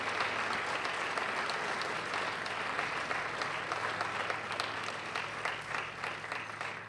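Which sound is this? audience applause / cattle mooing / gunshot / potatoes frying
audience applause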